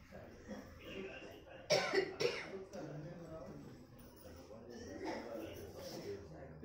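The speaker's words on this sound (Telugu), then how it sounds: "దగ్గులు వస్తూ ఉన్నాయి." A couple of sharp coughs break out near the middle of a Bhagavad Gita discourse, with quieter talk and room noise continuing before and after.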